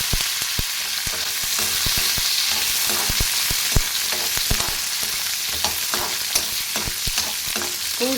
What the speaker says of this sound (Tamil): போட்டு இப்போ வதக்கின பிறகு பூண்டு போட்டுறேன்